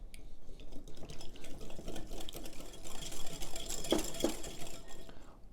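Electric mixer beating cookie dough after an egg is added, a steady whirring buzz with faint wet slapping, fairly quiet and continuous.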